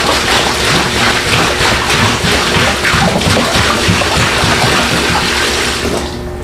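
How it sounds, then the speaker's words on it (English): A gallon bottle of water gushes loudly and steadily into a container, close by, then tapers off as the pour ends. "we'll pour the first bottle in and see what level that puts us at"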